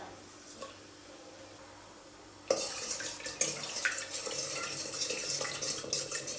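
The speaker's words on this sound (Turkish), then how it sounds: "Karıştırdım şeker erisin diye." A spoon stirs sugar into a glass of warm milk: after a quiet start, brisk clinking and swishing begins abruptly and carries on with small irregular knocks.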